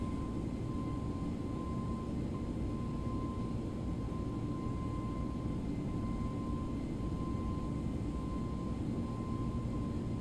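Steady broadband roar of a ToLiss A321 NEO jet taking off in X-Plane 11 on a gusty day, constant and fairly loud throughout with a faint tonal whine, no voices.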